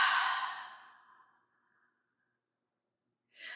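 A single long open-mouthed exhale in a guided yoga breathing exercise, a soft breathy rush that fades out over about a second and a half, then a brief fresh breath sound near the end.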